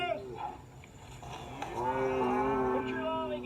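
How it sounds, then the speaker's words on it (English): Cows on a small farm moo. One long, low, drawn-out moo swells near the end after quieter calls and murmurs, with nothing else competing. "Come on, cows."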